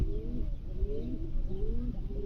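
A pigeon at a market coos close by in repeated low, throaty warbles, several short rolling calls in a row with little else around.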